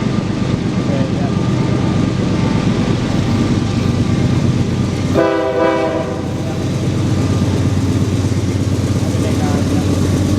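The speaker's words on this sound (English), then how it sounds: "Here's the first train of the day right here." A very long freight train of roughly 2.5 miles rumbles past close by as a steady, loud drone that runs the whole time, with a brief sounding of the horn midway.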